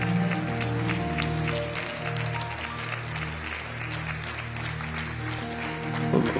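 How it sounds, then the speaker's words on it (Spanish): Applause at a church service, a steady wash of many hands clapping that holds loud and even throughout. "Vamos a dar un aplauso más fuerte al Rey, con gozo, con alegría."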